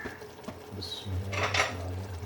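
A metal lid set down on a cooking pot of phaliyan gosht, giving a short clink and a brief rattle, then soft clatter and faint simmering, close by and fairly quiet, with no talking.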